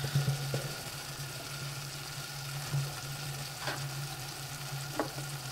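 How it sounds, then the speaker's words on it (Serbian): Meat and chopped peppers cook together in a pan with a soft, steady sizzle and low bubbling, close and quiet, with a few faint clicks scattered through. "I sve zajedno ćemo da krčkamo"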